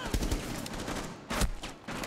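Gunfire in the Rainbow Six Siege video game during a competitive match: a few sharp, fairly faint shots and a short burst crack out over background game ambience, with no voices heard.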